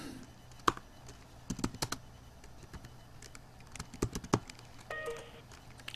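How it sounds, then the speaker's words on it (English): Typing on a computer keyboard while writing Java code, irregular bursts of sharp clicks and taps, close and fairly faint, with short pauses between runs of keystrokes and no talk. "I'm not doing too well in the typing today"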